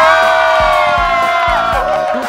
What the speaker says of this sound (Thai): ขอเสียงปรบมือต้อนรับแม่ฟ้ามีจรวดค่ะ